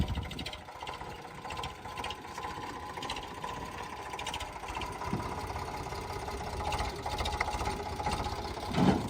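A farm tractor's engine runs steadily nearby, a continuous chugging, idling drone with a faint rhythmic knock, heard alone without voices for several seconds.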